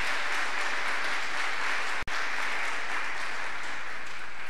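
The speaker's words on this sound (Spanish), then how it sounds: "Dele fuerte ese aplauso al Rey, hermano." Steady, dense applause from a church congregation during a sermon, a continuous broadband clatter that drops out for a split second midway and then resumes at the same even level.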